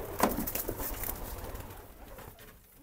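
Nun pigeons in a coop coo nearby in soft, throaty bursts, a louder call early on and quieter ones trailing off over faint background noise.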